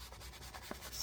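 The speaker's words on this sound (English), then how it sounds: "I'm just very lightly sanding the back of this to get a little bit of that slick off." A sanding block lightly rubs the back of a slick memory book page, giving a soft, faint, steady scratching close by with a few brief strokes and no talking.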